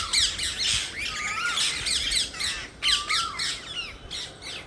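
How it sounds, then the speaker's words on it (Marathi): Squirrels, mynas, sparrows and parrots clamor in a tree, a busy overlapping mix of harsh squawks and chirps, close and loud, coming in repeated bursts. "खारुताई, साळुंकी, चिमण्या, पोपट इतका गोंधळ चालू आहे"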